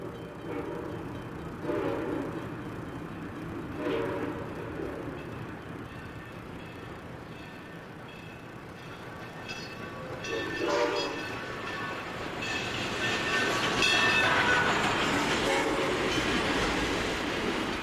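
Southern Pacific 2472 steam locomotive hauling a passenger train, a steady rumbling roll with rail clatter and horn or whistle tones rising and strengthening toward the end, heard from close by.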